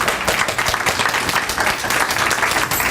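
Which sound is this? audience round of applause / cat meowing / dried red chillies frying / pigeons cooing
audience round of applause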